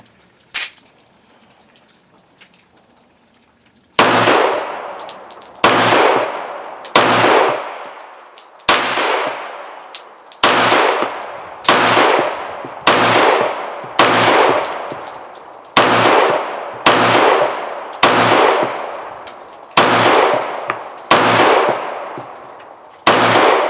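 A Taurus PT92 9mm pistol fires brass-case rounds in a steady string of about fourteen loud, sharp shots roughly a second and a half apart, each with a ringing decay, after a faint lead-in and one early shot.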